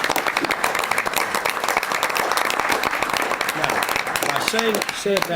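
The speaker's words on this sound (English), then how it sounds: "Let's just clap for him just for a while." Applause breaks out at a Joliet city council meeting, a crowd clapping steadily and loudly throughout, with voices talking over the end.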